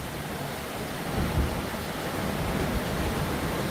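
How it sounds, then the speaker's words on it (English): Steady rain pours down in a dense, even hiss, with gusty wind swelling the noise partway through. "The rain is coming in."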